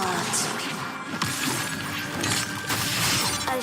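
Stones breaking apart in the video game Wuthering Waves, a loud crumbling and shattering crash that spreads over several seconds, with scattered sharp cracks over a dense, steady layer of game sound.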